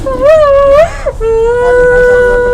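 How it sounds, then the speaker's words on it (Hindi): A young girl cries loudly and close by, her voice rising and wavering in drawn-out wails before settling into a sustained sob. "सीख के बच्ची रो रही है"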